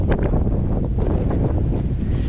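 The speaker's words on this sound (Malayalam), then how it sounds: "ഫുൾ ടൈം നല്ല കാറ്റുണ്ടാവും" Strong, steady wind buffets the microphone on an open hillside grassland, a loud continuous roar with no talking.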